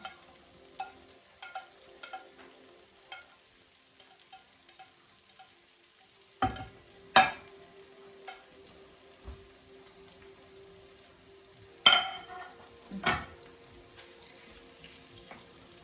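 Saltfish frying in olive oil with garlic in a home kitchen, heard as a soft steady sizzle with scattered clinks and scrapes of stirring and a few louder utensil knocks, no talk.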